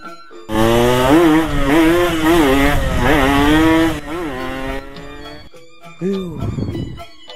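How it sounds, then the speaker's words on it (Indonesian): A cartoon motorcycle engine buzzes and revs loudly for several seconds, rising and falling in pitch as if passing by, with a raspy, chainsaw-like whine, then fades as a voice speaks briefly. "Siapa tuh orang naik motor?"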